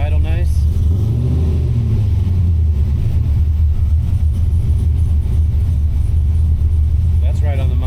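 LS-swapped Mazda RX7 running on a Holley Terminator X tune settles back to a lumpy idle, a loud close V8 rumble holding steady, with a voice speaking over the engine.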